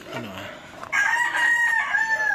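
A rooster crows once at close range, a loud drawn-out call after a brief low cluck, with no talking.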